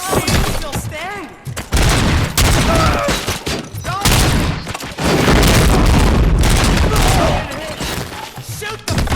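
Gunfire in the game RoboCop: Rogue City: loud, dense bursts of shots and heavy booming impacts come in rapid volleys, with short gaps between them, and game voices shout underneath.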